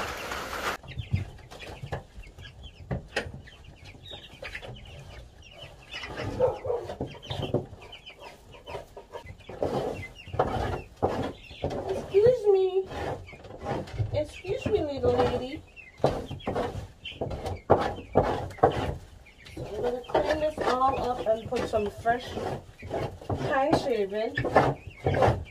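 Cornish game hens cluck and chatter in a chicken coop, close and continuous over several seconds, mixed with scraping and shuffling sounds while a person talks throughout.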